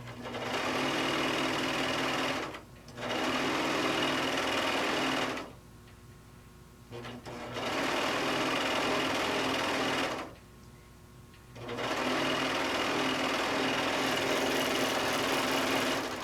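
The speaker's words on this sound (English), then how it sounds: "So we're just going to serge down both sides." A serger stitching down both sides of a fat quarter tote handle, a loud, steady high-speed mechanical whir running in three long bursts with short pauses between them, close up and without voices.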